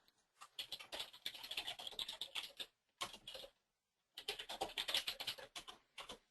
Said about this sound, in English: typing in new text.